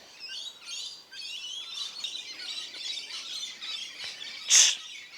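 Small birds chirp and tweet in quick, repeated calls outdoors, moderately close, with one louder sharp chirp near the end and no talk.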